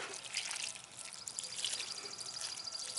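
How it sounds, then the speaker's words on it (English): Homemade liquid fertilizer poured around the base of a habanero plant gives a soft, continuous trickle of liquid soaking into soil, faint and close. "the first thing we're going to water with our free fertilizer is our Habanero plant"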